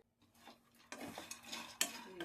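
Roasted fox nuts and dal stirred together in a pan off the heat, giving close, irregular scraping and light clattering with a few sharper knocks, no talking.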